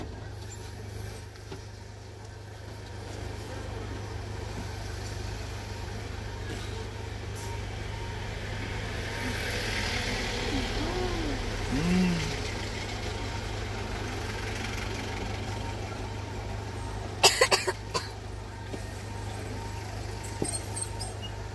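Road traffic near Tirumala, a steady low idling rumble of heavy vehicle engines with passing swells, and a brief burst of clanking or hissing near the end. Faint voices are heard in the background.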